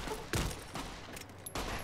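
A few sharp gunshots in the video game Fallout: New Vegas, spaced irregularly over a couple of seconds against a noisy, dense background mix.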